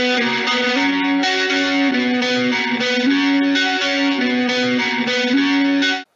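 Electric guitar played with the rotary effect switched off, a steady distorted, effects-laden chord pattern with shifting sustained notes and repeating rhythm, loud and close, no talk over it.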